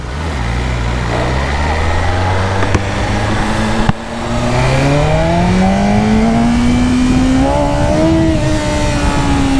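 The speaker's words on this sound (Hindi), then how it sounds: "ओ भाई ऐसे व्हीली उठ रही है खटाखट, हल्की सी उठी।" A BMW motorcycle revs hard and close while popping a light wheelie, its engine note climbing steadily through rising harmonics with a brief dip near four seconds, loud and continuous throughout.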